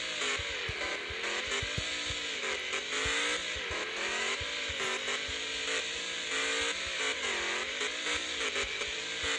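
An off-road crawler in the Offroad Outlaws video game grinds along in low gear, its engine a steady, loud drone with gently wavering revs and clunking bumps underneath, no talking.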